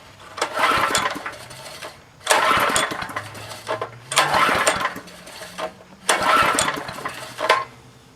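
A Craftsman 5 hp, 2400-watt generator engine is cranked in four separate pull-start attempts, each a loud roughly one-and-a-half-second rattling burst with short pauses between, and it never catches and runs.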